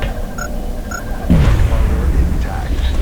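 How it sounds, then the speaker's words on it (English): An alien grenade goes off in the XCOM video game, a sudden loud boom that swells and rumbles for over a second after a brief quiet beeping lead-in. "The last Muton moves up, tosses an alien grenade for 2 more damage."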